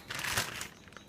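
A plastic sandwich baggie crinkles and rustles as it is pulled open, a brief burst of close crackling that fades out near the end.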